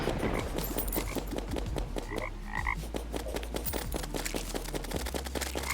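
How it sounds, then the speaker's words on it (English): Toads summoned by the Caustic Croaker Staff in Terraria's Calamity mod croak in rapid overlapping bursts, a dense rattling chorus mixed with busy game sound effects, loud and constant. "Summons a toad that explodes if enemies are nearby."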